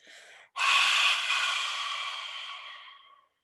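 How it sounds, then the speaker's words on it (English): A short breath is followed by one long forceful exhale through the open mouth with the tongue out, lion-style yoga breathing, a loud close breathy rush fading over about three seconds, no talk. "Stick out the tongue as you breathe out."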